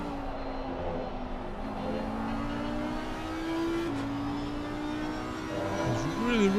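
A Porsche race car in Assetto Corsa Competizione at Paul Ricard accelerating hard out of a corner, its engine note climbing steadily and shifting up under continuous game noise, close and loud.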